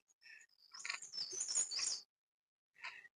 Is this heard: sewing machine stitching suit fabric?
no